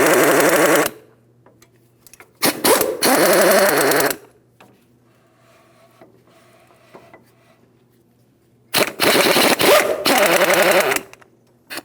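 An impact wrench zips out the 15mm axle flange bolts on a 2007-2014 GMC Sierra 2500 HD in loud, sharp rattling bursts separated by quiet pauses: one long burst, a cluster of short ones, then another long rattle.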